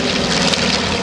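A B-25 Mitchell bomber's piston engines at an airshow: a loud, steady propeller drone filling the whole moment with no break.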